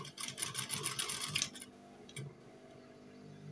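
Sewing machine stitching along a trouser waistband with a half-elastic waist, a fast steady run of close mechanical ticks for about a second and a half, then stopping, leaving only faint handling noise.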